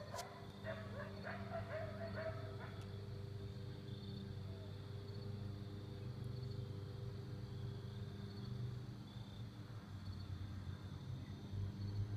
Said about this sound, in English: Pack of wolves just howling. Coyotes.